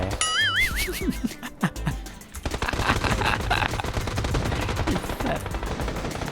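Rapid bursts of gunfire with electronic effects in the shooter game PUBG, dense and continuous after a short lull.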